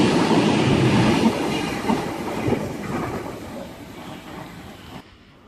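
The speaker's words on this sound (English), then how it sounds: "We have a Macarthur service about to pass us on platform number 2" A Sydney Waratah electric passenger train running through Turrella station at night, a loud close roar with rumbling wheels that gradually fades before cutting off.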